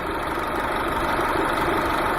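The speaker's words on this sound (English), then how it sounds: "the car is idling at about 800 RPMs right now" Car engine idles at about 800 RPM with its alternator driven by pulleys, giving a continuous, even drone and hum that stays steady throughout, close and moderately loud with no talking.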